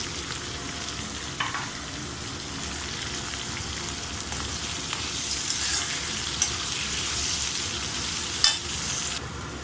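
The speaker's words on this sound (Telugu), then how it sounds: "ఆనియన్ కరివేపాకు వేసుకుంటాము. కొంచెం రోస్ట్ కావాలండి." Onions and curry leaves fry in a pan with a steady, close sizzle, broken by a few soft stirring scrapes and taps.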